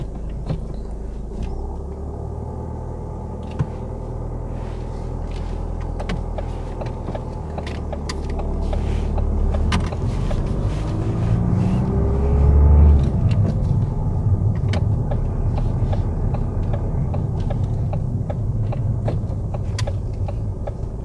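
A car on a UK driving test pulls away from a stop, engine rumble building steadily and close up from inside the cabin, with faint clicks and rattles and no talk.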